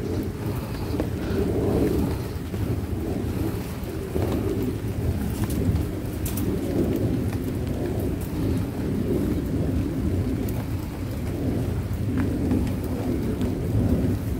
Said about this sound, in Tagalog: lalakas pa siguro itong ulan na ito